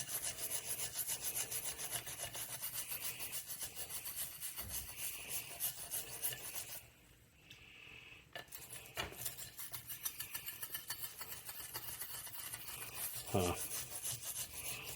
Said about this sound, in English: Little stainless steel brush, get some of that overheating varnish off of here.